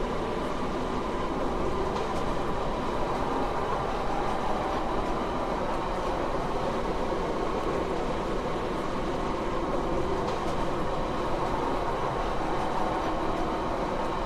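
A Stepford Connect train runs from Leighton West to Rayleigh Bay in the Roblox game Stepford County Railway, giving a continuous, loud, even rail rumble with faint rhythmic wheel noise throughout.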